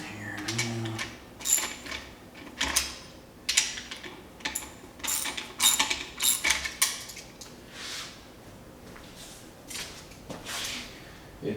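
Socket wrench working on parts of a Farmall Super H tractor under restoration: a close run of sharp metallic ratcheting clicks and clanks in uneven bursts, with quieter pauses between.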